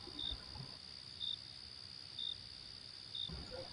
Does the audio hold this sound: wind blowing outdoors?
no